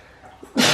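A single sharp sneeze at close range, a sudden loud burst of breath at the very end after a quiet indoor moment.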